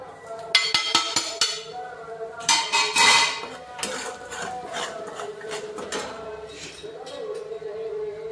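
Red chilli, coriander powder, Maggi masala, salt and turmeric stir-fried in hot oil in a pan for potato paratha filling, giving clattering spoon-on-pan scrapes and light sizzling in bursts, close and moderately loud, with no talk.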